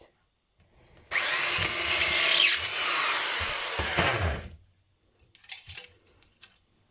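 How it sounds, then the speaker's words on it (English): Power drill boring through a tin-can poppy, a steady loud whine lasting a few seconds, followed by faint clinks and handling noises. "And then I'm just going to drill"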